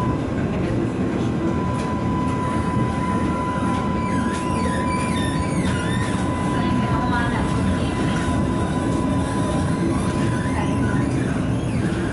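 A Budapest tram, route 59 or 61, rumbles along steadily with rail noise and a faint sustained tone, with some muffled voices nearby throughout.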